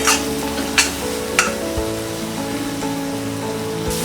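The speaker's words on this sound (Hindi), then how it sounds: "इसे लो फ्लेम में हम फ्राई करेंगे।" Spices sizzle steadily in oil on a low flame for a sprouts curry, a soft even crackle with a couple of stirring scrapes, close and without talk.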